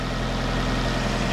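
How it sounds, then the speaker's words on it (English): A 2012 Fiat 500 engine idles steadily during cooling system bleeding after a thermostat replacement, giving a close, constant low hum and rumble with a slight rise at the end, and no voices. "Gotta let it idle and play with the pedal a little bit until we get heat."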